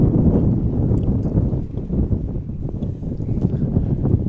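Strong gusting wind buffets the microphone at an outdoor ultimate frisbee game, a steady loud low roar with surges and dips throughout and no other clear sound.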